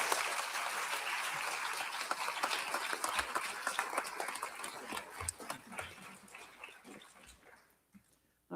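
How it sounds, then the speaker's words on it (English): An audience at a city council candidate forum applauds the candidates, sustained clapping with scattered loud individual claps that gradually thins and dies away. "Please go ahead and give our candidates a round of applause, please."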